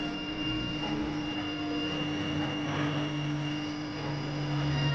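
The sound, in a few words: motor auto-tuning run with Fuji mini drive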